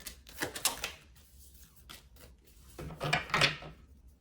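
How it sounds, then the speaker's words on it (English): Tarot cards riffle and slap together in two short bursts of shuffling, close by and fairly quiet, with a pause between. "we're gonna get a few more shuffles"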